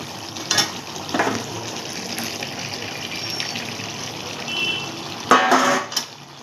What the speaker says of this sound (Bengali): এবার আমি চিংড়ি মাছগুলোকে ঢেলে দেব